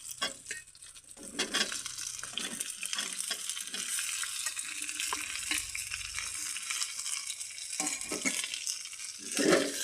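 Soybean chunks, potatoes and mixed vegetables with garlic sizzle and fry steadily in a pan, with scraping stirs and utensil clinks breaking through the continuous hiss; no one talks.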